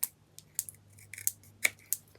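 No-handle scissors snip through paper card while making Valentine's cards, giving about eight crisp, close cuts at an uneven pace with quiet gaps between them.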